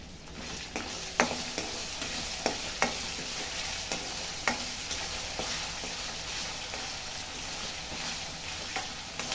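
A handful of fresh curry leaves sizzles in hot oil for goat intestine kuzhambu, with a steady frying hiss and several sharp crackling pops and stirring clicks; no one talks.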